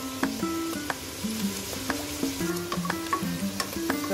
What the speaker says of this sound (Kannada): ನಾನು ಈಗ ಮೆಣಸಿನ್ಕಾಯಿನ ಇದರಲ್ಲಿ ಫಸ್ಟು ಸ್ವಲ್ಪ ಫ್ರೈ ಮಾಡಿಕೊಂಡು